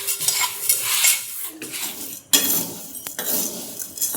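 A spoon stirs and scrapes chana dal and urad dal as they dry-heat in a pan. Soft rattling and scraping strokes are interrupted by a sharp metallic clink partway through, with no talking.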